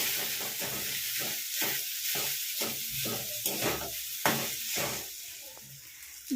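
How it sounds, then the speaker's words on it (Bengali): Boiled potato and beetroot pieces lightly frying in a pan give a steady, close sizzle, broken by a regular series of scraping stirs. "3 থেকে 4 মিনিটের মতো হালকাভাবে ফ্রাই করে নিতে হবে।"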